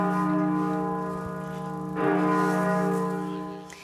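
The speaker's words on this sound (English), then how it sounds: "the bell at York Minster tolled 99 times to mark the Duke's 99 years" A large cathedral bell at York Minster tolls in a steady, sustained ring, its deep humming overtones hanging continuously, with a fresh strike swelling the sound midway, heard alone without talk.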